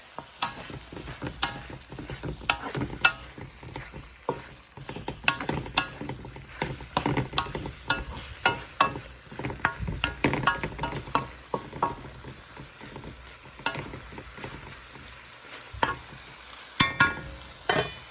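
Mixed vegetables and shrimp are stir-fried in a pan, with continuous sizzling and frequent scraping, clattering stirs of a utensil against the metal, close and lively throughout.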